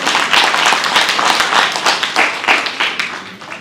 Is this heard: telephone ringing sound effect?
no